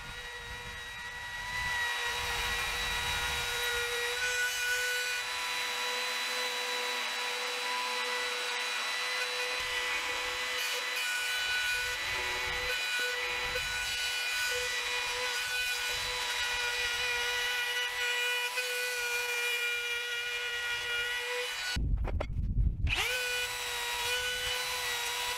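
A handheld router fitted with a 45-degree chamfer bit cuts along the corners of 4x4 wood posts, a steady high-pitched motor whine holding for about twenty seconds before a brief louder burst near the end.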